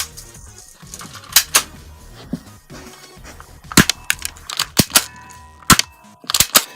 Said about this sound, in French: on va réessayer avec le pistolet